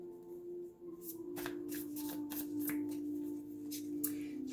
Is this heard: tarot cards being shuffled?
yes